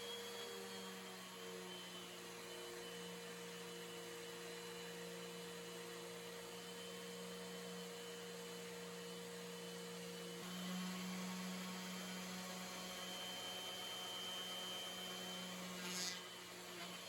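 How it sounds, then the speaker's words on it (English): A power sander hums steadily as it strips textured finish off a wooden hall tree, a constant mechanical whine with a slight rise in pitch partway through and no talking. "now that it fits, I need to sand all this texture off."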